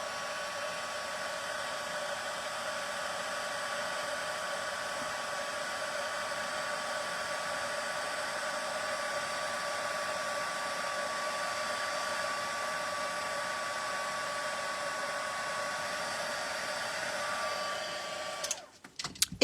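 A heat gun blows steadily and loudly for most of the span while heating white embossing powder on a paper label during a papercraft box project, a constant airy whir that cuts off with a few clicks near the end.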